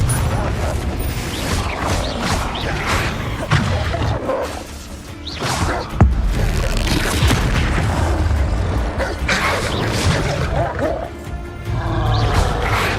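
Loud, dense game combat from Hogwarts Legacy with the Confringo fire spell, full of booming blasts, crashes and whooshes, one sharp explosive hit standing out partway through, continuous and close.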